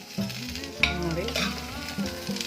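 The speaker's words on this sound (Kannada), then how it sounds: "ಚೆನ್ನಾಗಿ ಫ್ರೈ ಆಗಿದೆ." Onions fry for red chutney: a close, continuous sizzle with scraping stir strokes through it, and faint tonal sound in the background.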